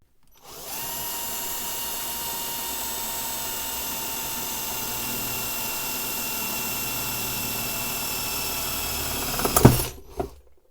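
A power drill fitted with a Parkside drill bit whirs at a steady high pitch for about nine seconds, then bites and rattles briefly before stopping, with no talk.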